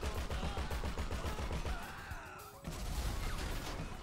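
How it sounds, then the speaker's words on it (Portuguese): In GTA V, a car that has been set on fire explodes into a sharp burst of crashing noise after rapid clattering game sounds, then the loud game audio continues. "Sai de perto que vai explodir."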